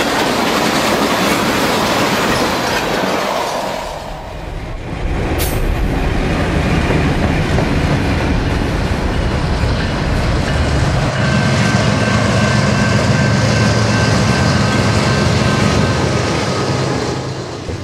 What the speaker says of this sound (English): Next to come down the track is an eastbound train of mixed freight.